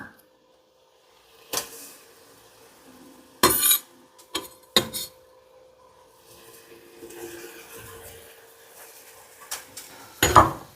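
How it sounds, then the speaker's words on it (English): Garlic goes into a pan for a creamy teriyaki mushroom chicken one-pan dinner, followed by scattered utensil clinks and scrapes against the pan with quiet gaps between them. "in goes the garlic"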